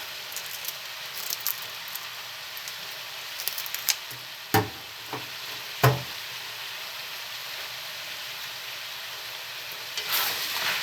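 Chicken curry sizzling in a pan, with a steady soft frying hiss and a few sharp knocks of the spoon against the pan as it is stirred.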